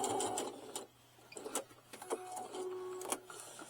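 A sewing machine back stitches over a duffel bag seam in short bursts, its motor whirring and needle clattering in quick runs broken by brief pauses, close and moderately loud with no talking.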